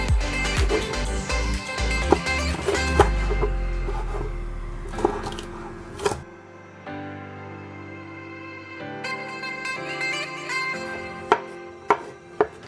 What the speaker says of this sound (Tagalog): Tapos yung ating hotdog, chop natin.